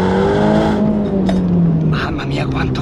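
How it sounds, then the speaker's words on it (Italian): A Ferrari Roma in race mode revs hard under acceleration, the engine note climbing then dropping at a quick upshift before pulling again, loud and close from the cabin with a voice talking over it. "torniamo in modalità race e cerchiamo di sentire un po' il motore di questa macchina"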